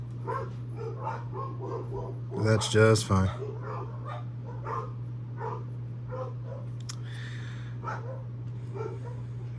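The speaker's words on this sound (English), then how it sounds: "There's my dogs barking." Several dogs bark indoors in a short loud burst of yaps near the start, then scattered softer barks and whimpers follow while a person talks over a steady low electrical hum.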